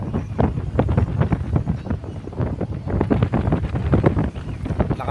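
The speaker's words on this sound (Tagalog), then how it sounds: "Lakas ng hangin mga ka-fishing, habagat." Strong habagat monsoon wind gusts by the sea at Tanza, Navotas, buffeting the microphone in loud, rumbling bursts that rise and fall throughout.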